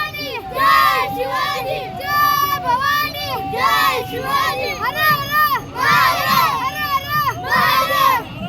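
A group of children loudly chants slogans in unison at a crowded Shiv Jayanti celebration at Shivtirth, Ichalkaranji, with repeated rhythmic call-and-response bursts close by.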